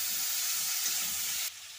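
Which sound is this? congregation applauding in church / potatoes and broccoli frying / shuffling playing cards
potatoes and broccoli frying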